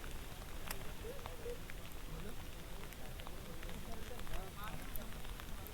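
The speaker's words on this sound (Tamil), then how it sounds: "மழை வந்துட்டுங்க வேகமாக." Steady rain falls on and around a lake during the monsoon, a dense, continuous hiss with scattered drop patters throughout, close and fairly loud, with no talk.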